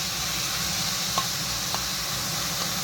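Paneer frying in a pan with onion and tomato, a steady soft sizzle with a couple of faint stirring clicks, close and even throughout with no voices.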